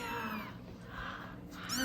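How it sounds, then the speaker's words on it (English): Kittens at an animal shelter meow in thin, high cries close by, a short run of overlapping mews with no talk over them. "Oh, look at these sweet little kitties."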